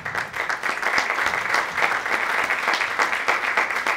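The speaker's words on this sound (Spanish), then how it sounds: "Ahora recibimos con un fuerte aplauso a Bashira." Audience welcoming a performer on stage with dense, continuous applause, steady and fairly close throughout the whole four seconds with no talk.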